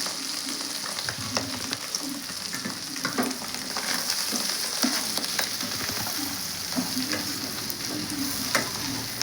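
Capsicum, beans, carrot, cabbage and green chilli stir-fried for street-style egg noodles, a loud continuous sizzle close up with repeated scraping and tossing of the spatula in the pan, no voices.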